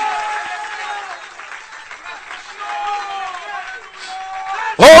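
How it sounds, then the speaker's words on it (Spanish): Church congregation applauding in praise during a sermon, with a faint crowd wash of clapping under prominent voices and cheering, then a sudden loud burst at the very end. "Dale ese aplauso de alabanza a Jesús."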